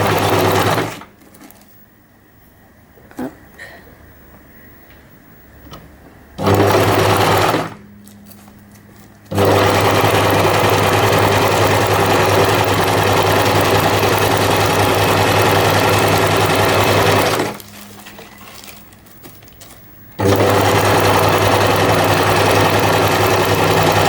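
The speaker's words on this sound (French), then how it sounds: "on va faire la dernière couture" A sewing machine runs in several loud bursts while stitching a zigzag seam along a catenary curve, its fast motor whir steady through each run and separated by quiet pauses.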